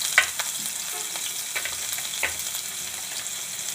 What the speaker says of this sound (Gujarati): આપણું તેલ આવી ગયું તો આપણે એક તજપત્તું નાખશું એક તજ નાખશું આપણે ધાણા જીરું નાખશું